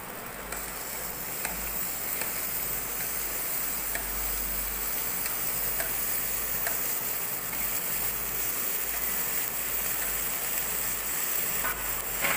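Green chillies and tomatoes sizzle in hot oil with ginger and garlic while cooking a Malappuram-style chicken curry, a steady dense frying hiss with faint scattered pops and scraping, continuous and close, no voices.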